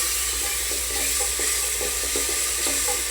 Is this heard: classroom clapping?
no